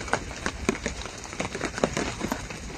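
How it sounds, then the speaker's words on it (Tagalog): Heavy rain patters and drums steadily on a surface close by, a dense wash of drops with sharper taps scattered throughout. "Ang lakas ng ulan talaga kanina."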